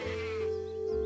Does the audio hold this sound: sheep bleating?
yes